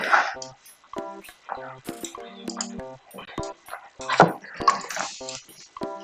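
A Titanic Pumpkin Dog pet in a video game yips, barks and whimpers repeatedly in short, bright bursts, spread unevenly with brief gaps between them.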